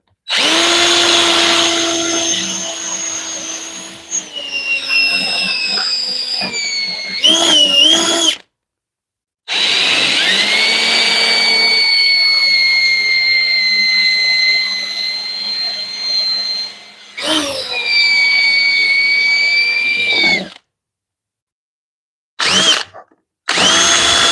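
A power drill bores a small track for a screw in a workshop: loud, high whining runs that rise and fall in speed, in several long bursts split by short stops and brief quiet gaps.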